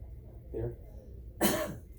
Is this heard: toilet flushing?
no